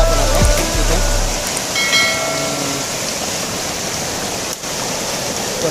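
Stream water flows steadily at a crab-catching spot where a trap is being set in the current, a continuous broadband rush with a low rumble briefly at the start.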